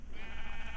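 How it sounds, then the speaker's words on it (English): Sheep bleating in the video game Minecraft, a single steady, wavering bleat heard up close against a low ambient hum, with no talking. "Oh, gray sheep."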